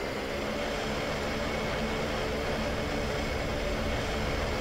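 Airplane engine in a video game during takeoff, a steady, loud broadband roar and drone that holds level throughout with no talking over it.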